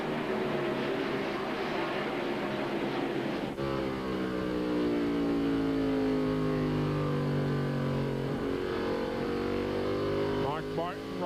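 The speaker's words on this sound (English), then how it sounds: "Mark Martin just barely ahead as Jeff Gordon goes through the corner" Stock cars roar through a turn in the 1998 Farm Aid on CMT 300 race, with loud, sustained engines sweeping down in pitch as they pass and a race commentator talking over them.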